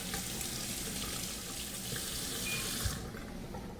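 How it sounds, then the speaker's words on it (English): Warm tap water runs from a faucet over a dental brush in a sink, a soft steady hiss of flow that stays quiet and even before thinning out near the end. "I'm actually going to soak my dental brush very quickly under warm water"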